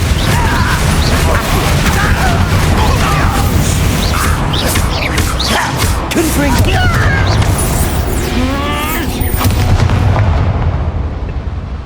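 Fire spell blasts in the Hogwarts Legacy video game, loud booming bursts over a dense, continuous wash of crackling effects and rumble, filling the whole stretch at high level.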